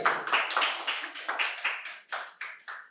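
A small group claps in quick, uneven bursts at a medical college quiz competition, fairly close, with no talking over it.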